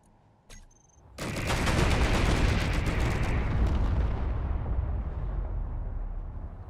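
Spaceship main guns in a Star Wars ship-building video game open up after a brief click, unleashing a loud, sustained roaring barrage of rapid blasts that rumbles on and slowly fades.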